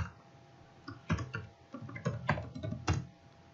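Keys clack on a computer keyboard as a root login is entered on a Raspberry Pi 3 B Plus setup, producing a short run of close, distinct irregular taps.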